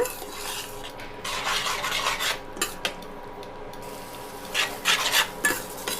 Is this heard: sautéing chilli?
yes